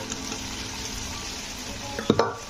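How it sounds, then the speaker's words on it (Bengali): Boiled chickpeas, added along with their cooking water, are stirred into potatoes and masala for a no-onion, no-garlic chana masala. A low bubbling sizzle continues throughout, followed by two quick, louder spoon scrapes against the pan near the end. "তো দিয়ে ছোলাটাকেও একটু আলুর সঙ্গে কষে নিতে হবে।"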